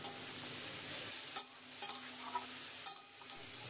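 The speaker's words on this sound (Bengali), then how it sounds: "বড়িটা শাকের সাথে মিশিয়ে নিয়ে শাকটা একটু ভাজা ভাজা করে নেব" Red amaranth greens with fried lentil dumplings frying in a pan, a steady soft sizzle broken by several sharp scraping stirs of a spatula, close and quiet with no talk.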